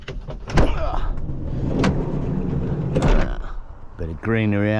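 A camper van's sliding side door opens with a few clunks and a rolling rumble, and a voice follows briefly at the end.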